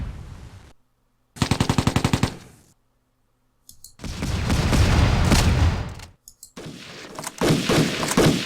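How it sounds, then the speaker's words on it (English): Bursts of machine-gun and rifle fire in the World War II tactics game Tigers on the Hunt: a crisp rapid rattle, then longer roaring volleys broken by short silences, loud and close with no talk. "We have the Americans are firing at my units."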